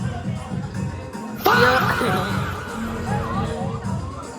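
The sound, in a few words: crowd of boys gathered for Dahi Handi practice and meal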